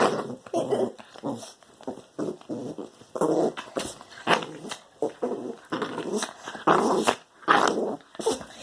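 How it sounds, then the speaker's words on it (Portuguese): A small dog growls in repeated rough, rumbling bursts up close, with short pauses between each growl and a bit of whining. "Olha ele rosnando. Ele rosna mesmo"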